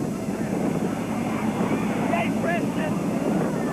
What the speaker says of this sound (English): Next big jet approaching.